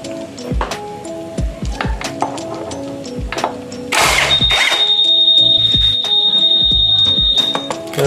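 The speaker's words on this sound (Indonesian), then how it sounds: "Jangan lupa kalau udah alarm guys." Honda PCX 160 scooter's alarm sounding in a sustained high electronic tone over a run of clicking, ratcheting mechanical noises.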